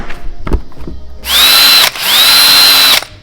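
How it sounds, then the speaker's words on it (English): A handheld solar-powered electric drill whirs up to speed twice in two close bursts, loud and near, each with a rising whine that settles into a steady high pitch. "We got a solar powered drill. Would you look at that?"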